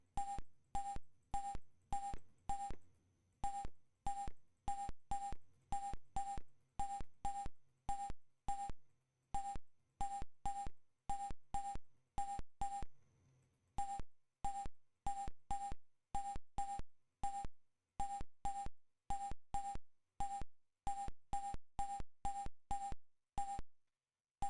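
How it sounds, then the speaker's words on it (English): Steady electronic beeping in the video game Wizardry 7, dozens of short evenly spaced tones in repeating groups with a brief gap near the middle, clean and prominent with no talking. "Beep, beep, beep, beep, beep, beep."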